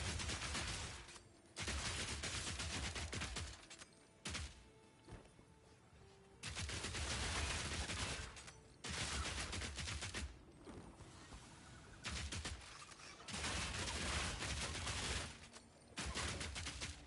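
Piercing Shot bow attacks fire in Path of Exile 2 as rapid bursts of sharp, gunfire-like volleys, several blocks of dense repeated shots broken by short quiet gaps, loud and close with no talking.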